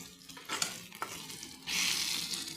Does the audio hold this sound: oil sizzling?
yes